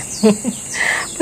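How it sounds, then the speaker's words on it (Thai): Birds sing outdoors in the morning, giving short chirps and whistled calls over a steady hiss of background noise. "อิ่มเอมไปกับธรรมชาติเสียงนกร้อง"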